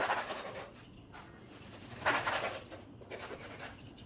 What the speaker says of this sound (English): Time to slice the meat. Make sure to cut against the grain.